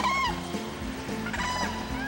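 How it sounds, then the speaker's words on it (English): A whooping crane gives loud, honking trumpet calls, several rising cries in a row over a steady background with no talking. "The bird gets its name from its trumpeting cries."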